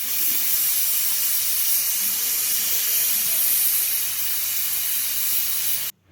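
A pressure cooker cooking rajma and fresh beans lets out a loud, continuous steam hiss that holds for several seconds and then cuts off abruptly at the end, with no voices.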